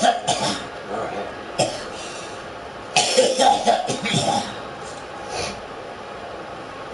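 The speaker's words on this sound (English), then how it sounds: "That was a smoker and a toker's cough." A horror-game clown character's heavy, phlegmy smoker's cough: several harsh hacking bursts and throat-clearing snorts spread across the span, loud and close, separated by quiet pauses.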